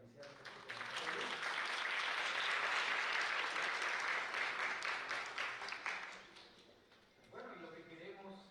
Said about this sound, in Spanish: pido nuevamente si les podemos recibir con un caluroso aplauso para iniciar este conversatorio